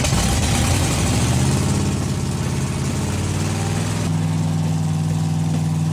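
A V8 car engine runs steadily at raised RPM, a loud, continuous low rumble with a slight wavering pulse and no talking.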